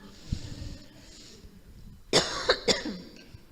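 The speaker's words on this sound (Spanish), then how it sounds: "Así que voy a toser un poco." A few sharp coughs from one person close by, following a stretch of quiet room noise and a soft breath.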